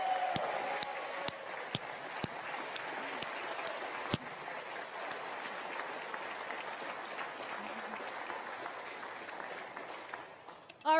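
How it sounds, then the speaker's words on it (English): Applause from a live audience at a product launch event, a broad steady wash of clapping sustained for about ten seconds with a few sharper nearby claps standing out. "How about a great round of applause for Renee?"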